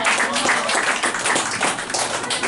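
Audience clapping and applause welcoming an adult group at a church anniversary celebration, a dense steady patter of many hands sustained throughout at moderate loudness with no talking.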